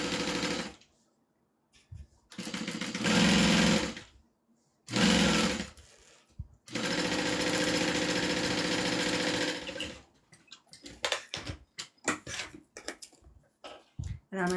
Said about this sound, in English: I'm just going to line up the bottom and then sew that down